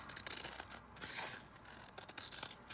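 Scissors snip through a strip of fabric in a quick run of close, crisp cutting and rubbing sounds at low level, with no voices.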